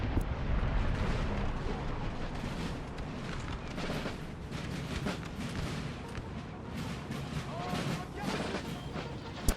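6-pounder cannons fire across a battlefield in Napoleon: Total War, heavy booms layered over a continuous rumbling din of battle, with several sharp reports standing out.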